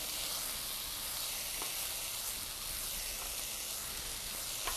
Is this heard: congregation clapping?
no